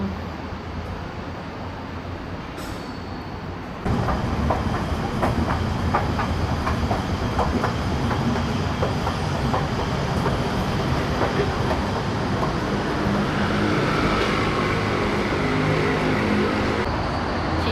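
A Kuala Lumpur MRT train at Sungai Buloh rumbles steadily with rhythmic clacking, growing louder and fuller after a few seconds and holding a continuous roar throughout.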